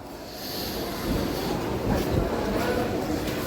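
At Bhimavaram Junction, a MEMU train sends a broad, rumbling wash of rail noise that swells midway, mixed with wind buffeting and platform crowd murmur.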